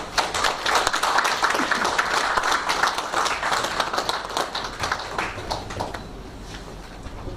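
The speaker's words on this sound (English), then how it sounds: "A big round of applause, please." Audience applause at an engineering ethics event as a memento is presented, dense clapping throughout that thins and fades toward the end.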